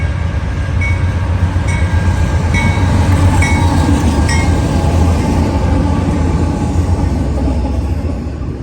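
A loud Norfolk Southern intermodal freight train led by two C6M locomotives rolls past close by, a heavy continuous rumble with rhythmic clicking of wheels over rail joints, steady throughout.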